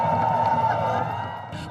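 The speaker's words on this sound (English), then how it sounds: "the crowd erupted" A crowd cheers and shouts at the moment of totality during a total solar eclipse in Ontario, a dense burst of voices that eases off toward the end.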